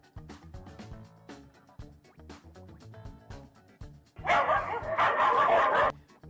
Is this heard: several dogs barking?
yes